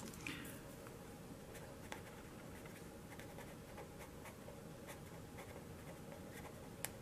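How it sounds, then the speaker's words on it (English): A pen or marker scratches steadily across a surface as a maths solution is written out step by step, with faint irregular strokes and taps over a low, constant background hum and no talking. "Let me write here."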